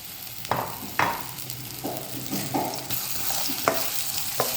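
Banana pieces sauté in hot ghee in a pan, a continuous close sizzle punctuated by repeated stirring scrapes and knocks, with no voices.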